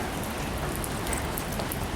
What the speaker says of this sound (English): I know it was rainy and kind of dreary